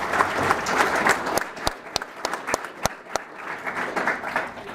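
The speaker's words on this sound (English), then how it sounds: "go ahead and give him a round of applause" A school pathway celebration audience applauds a guest coming up, a full crowd clapping loudly at first, then thinning to a few sharp, distinct claps before the applause rises again.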